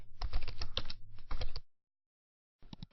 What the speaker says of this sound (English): Then go back to the software and type your ClickBank name into it.